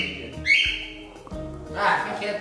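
A pet bird lets out a few brief, high chirps and squawks amid people talking nearby.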